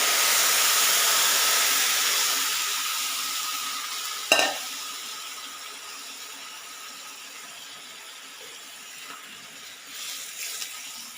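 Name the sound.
pouring melted jaggery syrup into a sweet mixture and stirring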